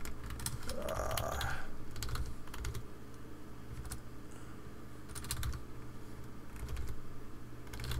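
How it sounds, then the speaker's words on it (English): Someone types on a computer keyboard in short, irregular bursts of clacking keys, fairly close but quiet, with pauses between runs of strokes and no talking. "Maybe type in something."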